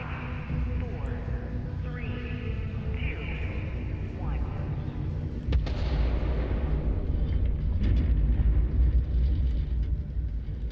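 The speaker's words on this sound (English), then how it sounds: "No one's at all concerned with the fact that there was an explosion there." An explosion in the video game Starfield, heard as a sudden broadband boom that swells into a loud, rumbling burst lasting several seconds over a constant background drone of game ambience.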